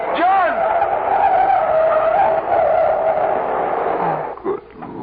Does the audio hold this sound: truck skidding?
yes